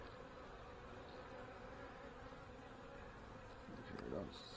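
Honey bees buzz steadily around an open hive during a quick inspection and mite strip removal, a dense continuous drone with one bee passing close and louder near the end.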